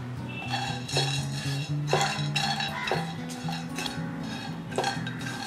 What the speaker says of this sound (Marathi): हे आता आपण मंद गॅसवर भाजतोय।